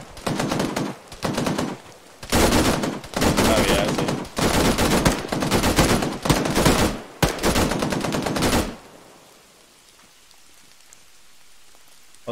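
Gunfire in the video game Arma 3: bursts of rapid, loud shots in clustered volleys over about nine seconds, then a quiet tail of ambient noise.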